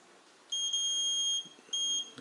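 Two steady, piercing multimeter continuity beeps, the first long and the second shorter, sounding as the probes touch the top and bottom terminals of a lawn tractor relay, close and clear over faint background with no talking.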